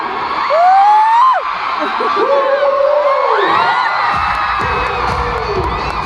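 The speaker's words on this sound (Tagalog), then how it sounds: "Kailangan lang non-stop ang pagsigaw" Concert crowd in Manila shouting and cheering, a loud burst of whoops and high yells rising and falling in waves, with a voice calling out over the noise.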